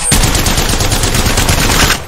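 Rapid continuous automatic fire from the Havok energy rifle fitted with a turbocharger in Apex Legends, a loud dense burst of shots lasting about two seconds before stopping.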